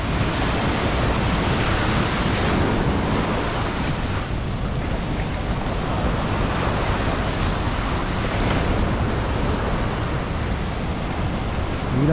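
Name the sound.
high tide waves crashing at Piliw Beach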